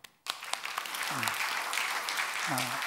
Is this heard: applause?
yes